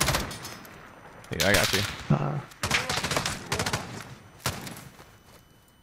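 LMG gunfire in Warzone: several loud bursts of rapid machine-gun fire, with a sharp single shot at the end, cut in between quieter gaps while a player talks briefly over them.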